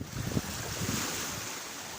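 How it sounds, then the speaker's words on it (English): Rolling sea waves break on the beach at Hopton on Sea, Norfolk, with a steady wash of surf and gusty wind buffeting the microphone, a few heavier surges near the start. "We're starting to get a few rolling waves come in."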